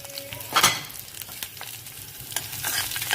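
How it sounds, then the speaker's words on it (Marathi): Green chillies and garlic crackle in hot oil for a tempering, a short burst of sizzling with spatula stirring and scattered pops, fairly close. "आपलं तेल गरम झालं की सगळ्यात पहिल्यांदा आपण हिरवी मिरची आणि लसूण याची फोडणी करूया"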